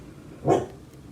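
A single short dog bark, close and fairly loud, against a quiet background.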